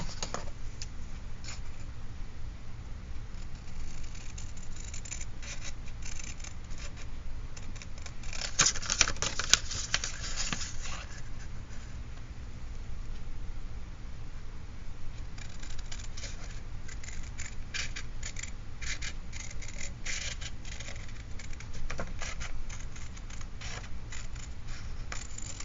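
Paper is cut with scissors while making a royal tri-fold card, a quiet steady crunching and snipping that runs throughout with no talk.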